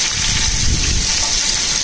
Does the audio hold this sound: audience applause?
no